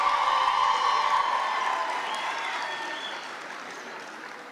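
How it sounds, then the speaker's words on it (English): Graduation audience applauding and cheering for the academic staff and supervisors, a broad wash of clapping with a few whoops that slowly tapers off. "Let's give them a round of applause."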